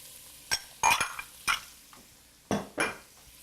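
Onions and celery dropped into a pot for fish chowder, giving a few distinct close clattering hits and short sizzling bursts separated by quiet gaps, with no one talking.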